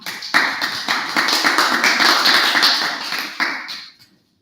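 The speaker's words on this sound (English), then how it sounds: "Let us welcome with a big round of applause, Adityananda Chang." Steady applause from a group, dense and even clapping that holds for several seconds before quickly fading out.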